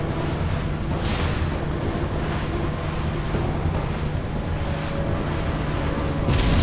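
A boat surges through water in the Resident Evil 4 game, a steady loud wash of waves and engine rush running throughout with no talk.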